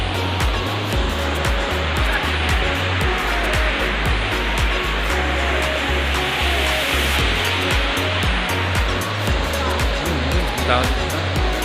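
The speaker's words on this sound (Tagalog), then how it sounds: "Ito na yung falls." Waterfall in San Mateo, Rizal, Barangay Silangan, a steady loud rushing roar of falling water that fills the whole scene without letup, with people talking faintly beneath it.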